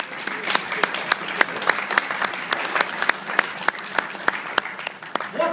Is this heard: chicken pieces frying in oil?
no